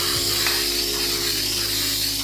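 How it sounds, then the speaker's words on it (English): Spray glue hissing from an aerosol can onto seat foam during a 2002 Chevy Silverado 1500 driver seat repair, a steady close continuous hiss lasting the whole moment over a low background hum. "You could also hit this side with that spray glue."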